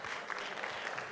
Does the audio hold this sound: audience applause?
yes